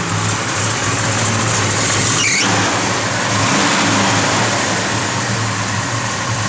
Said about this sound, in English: Car sounds good.